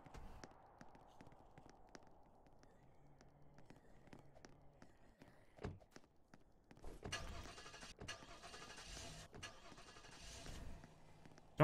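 An ambulance engine in the video game Apocalypse Rising cranks and catches after some quiet clicks, then runs with a loud broadband rumble and rattle for several seconds, close up, with no talking.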